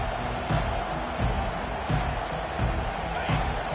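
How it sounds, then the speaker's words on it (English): A college football stadium crowd at USC vs Utah roars steadily, with rhythmic surges that swell roughly every second. A commentator's voice sits faintly in the dense wash of noise. "This crowd trying to show them what it's going to be like all day in this house"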